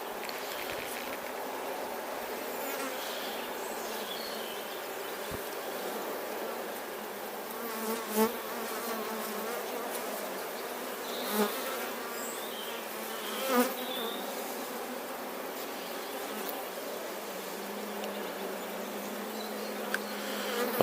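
Honeybees swarm around an open hive as a beekeeper hunts for the queen, a dense steady buzz close and all around, with a few louder passes as single bees fly near.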